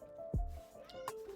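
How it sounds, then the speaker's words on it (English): Cats in a house let out a short, strained meow-like cry that rises and falls over a faint background hum, fairly quiet and brief, with no voices. "No cat fights in this house."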